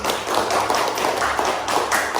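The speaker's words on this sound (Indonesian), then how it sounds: "Tepuk tangan untuk Silvi" A class of students claps for a classmate, Silvi, after she presents in a school lesson; a steady, dense patter of many small hands, fairly close and continuous, with no voices over it.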